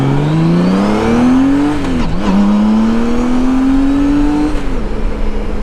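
A 2014 Honda Goldwing motorcycle accelerating on the road, its engine droning loud and close and climbing in pitch through a gear change, then pulling steadily again with wind rush.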